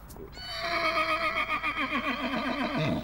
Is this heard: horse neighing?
yes